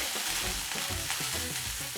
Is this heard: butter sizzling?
yes